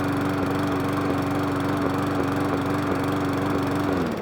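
A warmed-up lawnmower engine runs steadily and smoothly at a constant speed, with no surging or hunting, loud and close with a continuous buzzing drone throughout.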